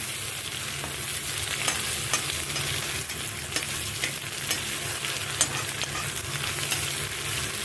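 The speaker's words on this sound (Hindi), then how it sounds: "हमने एक स्मॉल साइज़ का प्याज बारीक बारीक जो काट के रखा हुआ है वो डाल देंगे।" Finely chopped small onion frying in hot oil with curry leaves and bay leaf for a fish curry, a steady close sizzle with occasional stirring scrapes, no talking.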